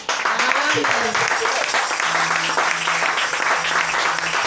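A church congregation applauding, steady dense clapping throughout at close range, with some voices and a low hum mixed in.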